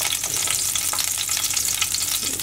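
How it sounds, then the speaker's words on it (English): Garlic sizzles in hot oil for a beef and broccoli stir-fry, a steady, dense crackle and hiss that stays close and loud throughout with no pauses or talking. "We'll throw the garlic in. Brown that up."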